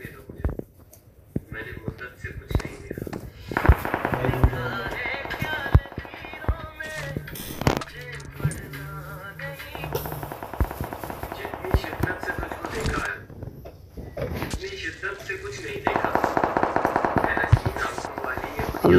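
Gunfire in the battle royale game PUBG, with repeated bursts of automatic shots and scattered single cracks over nearly twenty seconds, mixed with game effects and frequent talking.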